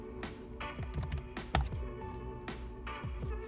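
Keystrokes entering a command in PowerShell on a Windows computer keyboard: several quick bursts of close, clicky taps with one sharper stroke midway, heard alone.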